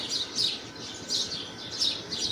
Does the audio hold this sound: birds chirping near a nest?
yes